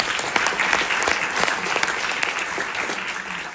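An audience at the opening of the Somali Week Festival in London applauds steadily, a dense, sustained wash of clapping from a large crowd that holds at an even level throughout.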